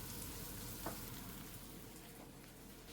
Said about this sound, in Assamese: মই পিঁয়াজ এনেকৈ অলপ ঘিত আৰু অইলত দুইটা মিক্স কৰি পেলাই ভাজি আছোঁ